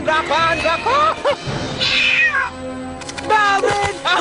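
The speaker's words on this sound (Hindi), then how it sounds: "हमने बिल्ली देखा" A cat meows several times in quick succession, loud and near, with a rising, whining cry in the middle and more calls at the end, in a Hindi-dubbed Hollywood film scene.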